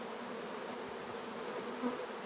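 Honey bees swarm around an open hive box during queen cell building, a steady dense buzz holding evenly throughout at moderate level, with no voices.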